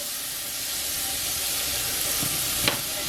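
Garlic sizzles loudly and steadily in a hot pot on a high flame. The hiss is constant, with brief stirring scrapes near the end and no voices.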